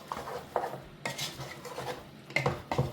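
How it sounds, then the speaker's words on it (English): Spoon stirring a vegetable and spinach sauce in a pot, with repeated clanks and scrapes against the metal at an uneven rhythm, fairly close and moderately loud. "Now stir, stir, stir and allow it to cook."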